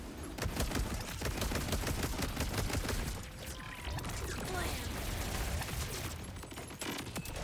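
Rapid gunfire and bursts of Torgue explosions from Borderlands 4, a dense, loud barrage of shots with crackling blasts that hardly lets up across the whole stretch.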